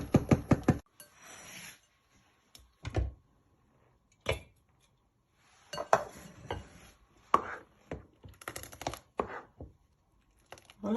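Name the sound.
serving millet porridge from pot into a bowl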